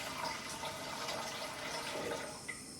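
Warm water poured into a bowl for sourdough bread dough: a continuous soft, splashy gurgle of flowing liquid, faint and close, that tapers off near the end, with no talk.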